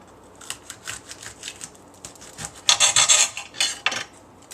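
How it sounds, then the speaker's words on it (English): A knife saws through a raw Swiss chard wrap with pecan filling, making close, crisp rasping strokes in an uneven rhythm that grow louder and denser toward the end, with a crunch of leaf. No talking. "I'm going to cut it in the middle"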